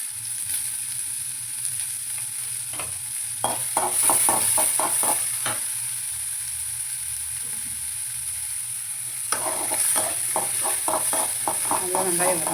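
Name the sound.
onions sautéing with mustard seeds and curry leaves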